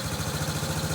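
A 1969 Honda CT90 motorcycle engine idles steadily up close, its low, even putter pulsing in a quick regular rhythm with no one talking.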